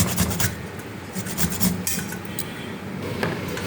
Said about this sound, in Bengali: প্রথমে আদাটা ঘষে নিই কড়ার মধ্যে